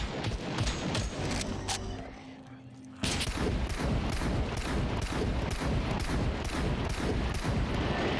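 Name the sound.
gunfire from shooting in the video game SCUM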